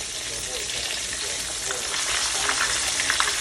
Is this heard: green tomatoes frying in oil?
yes